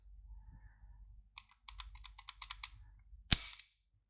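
Dry trigger pull and reset on a TİSAŞ Zigana pistol: a quick run of small, close metallic clicks, then one sharper, louder snap, all in a quiet room.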